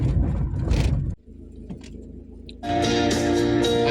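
Renault Kangoo car engine running on a track, a steady mid-pitched drone that drops to a quiet low rumble midway, then returns loud and revving with a bright harmonic whine.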